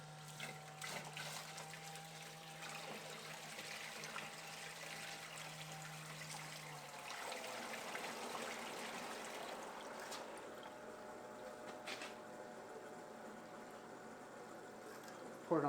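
Water poured into a bait tank to fill it to about 15 gallons, a steady broadband splashing and trickling that runs throughout at moderate level, with a faint hum early on and quiet voices in the background.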